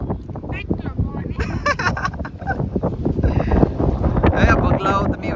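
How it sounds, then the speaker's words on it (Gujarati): Strong wind buffets the microphone with a steady roar on a coastal fishing outing while people talk over it. "પવન તો જો યાર કેટલો પવન યાર"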